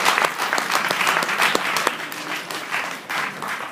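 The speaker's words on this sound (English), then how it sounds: "So give a round of applause for" A classroom audience of high school freshmen in a US history class breaks into steady, dense applause for a visiting guest, many hands clapping together at close range for the whole stretch.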